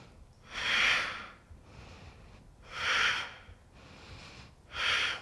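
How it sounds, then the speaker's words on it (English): Slow, audible breaths during a yoga abs practice come in three long, airy swells with quieter pauses between, near and unhurried, with no talking. "Inhale to lengthen, exhale to contract."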